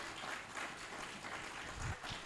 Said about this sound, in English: A bigger round of applause for him, please